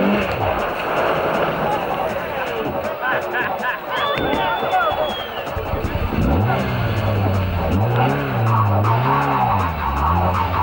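Rally cars skid and rev on a rally stage in Finland, engines whining up and down and tyres scrabbling, while a narrator talks over the action and a crowd murmurs in the background.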